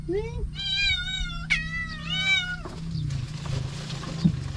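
Several drawn-out cat meows, close and clear, one rising into a longer wail, over a low steady hum and faint background noise.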